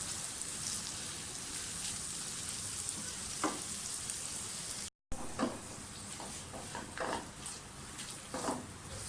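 Carrots and green chillies frying in a pan for a spaghetti and macaroni dish, a soft steady sizzle with scattered clinks and stirring knocks, quiet and close, broken by a brief cut of silence midway.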